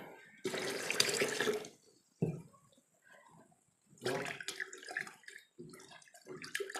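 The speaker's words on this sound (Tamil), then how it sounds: "இன்னொரு 1/4 லிட்டர் தண்ணி நான் ஆட் பண்ணிக்கிறேன்" Water pours into a container of jaggery wine in two bursts, a splashing stream for about a second, a pause with small trickles, then a longer uneven pour.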